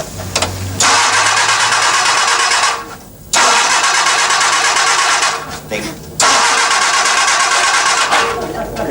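A car engine cranks repeatedly without catching, three long whirring bursts of the starter separated by short pauses, loud and close, with people talking around it.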